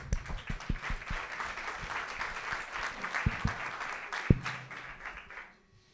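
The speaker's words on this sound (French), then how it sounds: "On l'applaudit." An audience applauds their president at a French meeting, a steady round of clapping with a few sharper nearby claps, close and fairly loud, fading out at the end.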